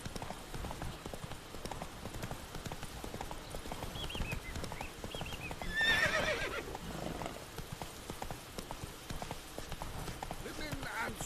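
Roach the horse in The Witcher 3 video game clip-clops along with steady hoofbeats and lets out a clear neigh midway, while a voice talks over the sound.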